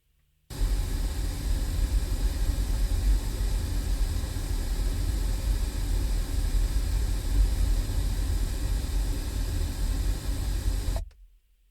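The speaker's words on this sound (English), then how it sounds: "so we'll go to the pink noise track." A pink noise test track plays through a replacement car stereo in a Ford Flex, a steady, loud broadband hiss that starts abruptly and cuts off after about ten seconds.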